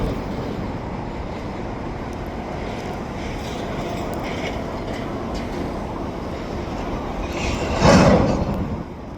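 A freight train rumbles steadily through a rail yard on a foggy morning, with low continuous rolling noise and faint clanks. It swells briefly into a louder burst near the end.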